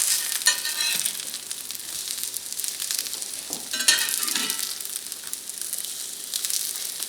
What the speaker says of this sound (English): I'll let these fry for 1 minute